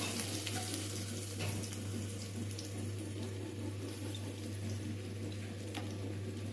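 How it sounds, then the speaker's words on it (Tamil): Mustard seeds spluttering in hot oil for a tomato and drumstick curry, a soft steady sizzle with scattered sharp pops over a low constant hum, faint and close. "கடுகு நல்லா பொரியட்டும்"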